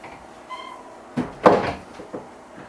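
Two small pantry cupboard doors in a tiny house's kitchen are opened, giving a couple of soft wooden knocks and a light creak close by, with no talk.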